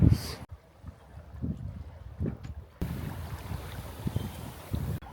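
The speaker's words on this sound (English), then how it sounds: "Pretty strong winds." Strong gale-force wind of around 45 to 50 knots buffets a sailboat, with loud gusty roaring and low rumbling blasts against the microphone that swell and drop in uneven bursts, and a sudden louder hiss partway through.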